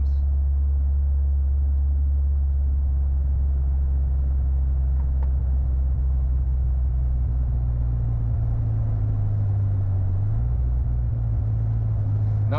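A 1984 Ford LTD Crown Victoria's engine runs steadily at fairly high revs, a continuous low droning rumble, heard close and alone with a slight drop in pitch near the end.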